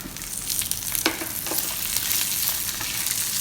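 Garlic frying in a pan, with ripe tomato and onion ready to go in, a loud continuous sizzle with a few scraping stirs near the start.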